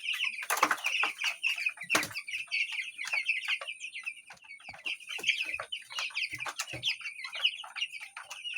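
Young broiler chicks close to three weeks old chirp and cluck without pause in a brooder with bedding, a busy flock of overlapping high peeps and a few sharp flaps of wings, close by.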